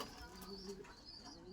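Pigeons coo softly in a village pigeon house, with a few low, rolling calls rising and falling over quiet background noise.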